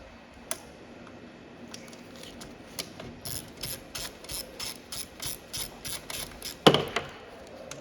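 Socket wrench ratcheting to undo bolts on a Beckett oil burner's fuel pump: a run of quiet, rhythmic clicking strokes, close by, with a louder metallic clack near the end.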